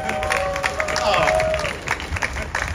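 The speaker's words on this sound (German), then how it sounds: "Und Applaus." Crowd applause at the Munich CSD Pride event, an outdoor gathering of clapping and cheering that runs steadily under chatter and babble, with a whistle-like tone sweeping through the middle.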